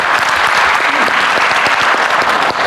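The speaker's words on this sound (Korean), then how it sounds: "다시 한번 정은경 장관님께 감사의 박수 한번 부탁드리겠습니다." Loud, sustained applause from a conference audience at a biotech innovation forum, a dense wash of clapping that holds steady from start to finish.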